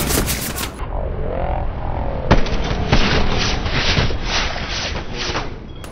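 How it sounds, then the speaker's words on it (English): Heavy gunfire and explosive booms fill a Hell Let Loose battle, with a sharp grenade blast standing out among sustained rattling shots and rumbling impacts, loud and close. "Throwing a grenade."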